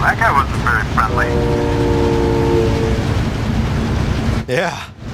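A video-game train rumbles past close by, its horn sounding a sustained multi-tone blast while wheels clatter beneath. A voice breaks in at the start and again near the end.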